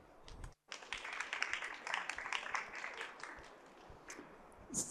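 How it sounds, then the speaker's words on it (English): A conference audience at a trade-fair talk claps in sustained applause, a dense crackling of many hands at moderate distance that starts after a brief gap and continues evenly to the end. "please welcome with a big round of applause, Louis Kuehl and Christoph Fuchs."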